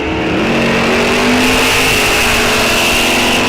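Ford and Mopar drag race cars launch at Rock Falls Raceway during a test and tune event, a loud sustained engine roar with rising revs close by.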